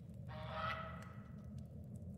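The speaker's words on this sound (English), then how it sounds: "It's a duck." A duck in a toilet-room setting gives one drawn-out, nasal honking call lasting about a second, loud and close, over a steady low background rumble.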